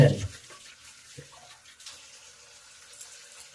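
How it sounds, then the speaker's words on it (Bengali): Tap water splashes over leafy greens being washed, a brief louder gush at the start that drops to soft trickling and handling sounds. "আমি পাতাগুলি সুন্দরভাবে ধুয়ে নিচ্ছি"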